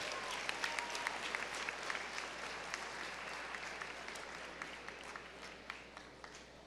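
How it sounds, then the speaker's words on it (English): Steady applause from a high school honors assembly audience for outstanding seniors, dense even clapping filling the room throughout with a few sharper individual claps standing out. "Let's give these outstanding seniors another round of applause"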